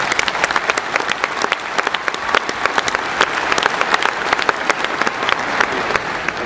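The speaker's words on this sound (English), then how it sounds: "Let's give them a round of applause." Audience applause fills the arena at an international Holstein dairy cow show, steady dense clapping throughout with no talk over it.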